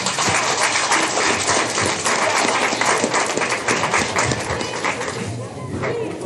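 An audience claps at a 4-H/FFA county swine show. The applause is dense and sustained, fairly close, and continues the whole time with faint voices beneath it.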